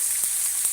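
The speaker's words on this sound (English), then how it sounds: "there's not a lot of splattering on the fish when I'm frying." Fish frying in a covered pan gives a steady, close hiss of sizzling oil with a couple of faint soft knocks, no voices.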